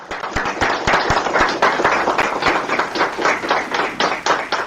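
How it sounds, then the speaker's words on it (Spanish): Audience applause at a talk on the history of Freemasonry in Mexico, loud and close, with sharp individual claps standing out over a sustained crowd patter for several seconds. "Vamos a darle un fuerte aplauso."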